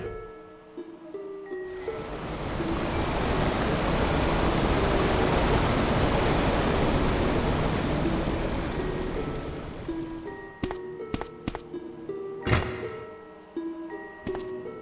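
Water drains in a room in Resident Evil Director's Cut on PS1, a loud swelling rush that rises, holds for several seconds and fades, with game music tones and a few thuds around it.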